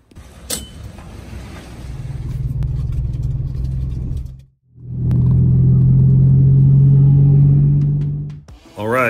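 Chevrolet Colorado ZR2 truck in stock form driving on a road, a steady low engine drone and road rumble that briefly drops away mid-clip before returning louder and sustained.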